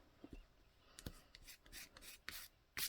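Fingertip rubbing over paper being prepared for a sensory journal, a series of soft, close dry rasping strokes with brief pauses between them, quiet and with no talking.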